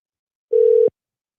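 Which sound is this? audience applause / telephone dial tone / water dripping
telephone dial tone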